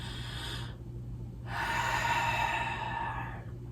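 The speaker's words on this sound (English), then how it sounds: "Let's take a nice full breath." A full breath taken during a meditative third-eye chakra yoga session, a soft airy inhale, a brief gap, then a longer breathy exhale that fades out, close and unaccompanied.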